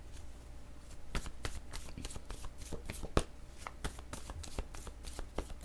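Oracle cards are shuffled by hand close up, a run of crisp riffling slaps and flicks in uneven bursts over a quiet room, with no talk.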